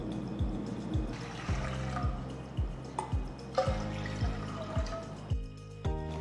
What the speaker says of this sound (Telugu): 1/4 కప్ రాగి పిండికి నేను 3 కప్పుల నీళ్లు పోస్తున్నా